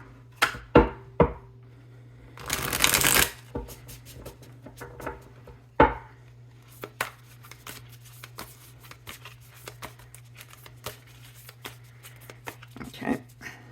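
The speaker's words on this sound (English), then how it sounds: "let's do one more shuffle" Tarot cards are shuffled and handled close by: scattered taps and flicks, one loud rushing riffle of the deck, then a long stretch of quick soft card clicks over a low hum.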